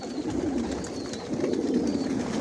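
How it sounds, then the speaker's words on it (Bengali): Racer pigeons in a loft coo in soft, low, rolling calls that overlap continuously, close and fairly loud, with no talking. "অনেক বেবি দেখাবো কবুতর দেখাবো আপনাদেরকে"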